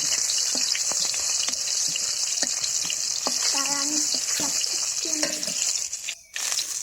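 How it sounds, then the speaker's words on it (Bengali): Garlic and bay leaf frying to brown in hot oil in a pan, a loud continuous close sizzle with scattered crackles and stirring scrapes, no talk. "দিলাম রসুন দিয়ে আমি বাদামি কালার করে ভাজিয়ে নিই"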